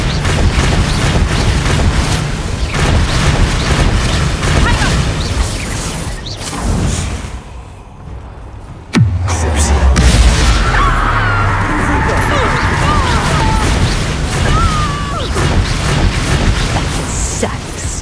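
Loud spell blasts during a Hogwarts Legacy duel: sustained crackling magic energy, whooshes and a heavy boom partway through, layered with game music and character shouts, dense and continuous.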